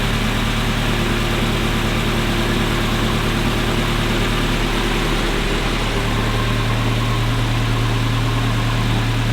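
An old Austin 10 car engine idles on choke, a loud, steady close-up drone with a constant throb and vibration throughout, with no talking.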